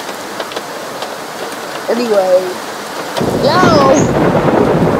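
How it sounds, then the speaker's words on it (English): Rain and rolling thunder from a thunderstorm in an unfinished tornado video game play steadily, swelling louder about halfway through, while someone speaks briefly over the storm. "Is the rain even gonna stop? I mean, is the thunderstorm even gonna stop?"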